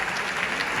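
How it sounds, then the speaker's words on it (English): Theatre audience at a Hamilton musical performance clapping, a brief burst of dense, loud, sustained applause. "giving a large round of applause to our security, to our ushers, to our house manager"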